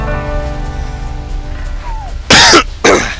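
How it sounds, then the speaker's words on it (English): Two loud, harsh throat-clearing coughs burst out close by near the end, following a quieter stretch of low background sound. "Trying to clear my throat. It's phlegmy."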